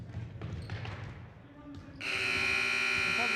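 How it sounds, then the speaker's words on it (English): At the end of a boys varsity basketball game, a loud sustained buzzer blares for the final second and a half. Before it, a ball bounces and sneakers squeak on the court. "The buzzer sounds, and this one has come to an end, Joey."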